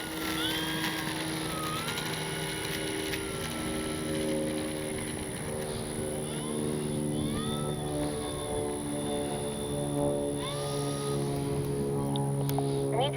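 FMS 1400mm F4U Corsair RC warbird plane in a hard dive, its electric motor whine rising and falling with tonal sweeps, moderately distant over steady outdoor ambience, no talk.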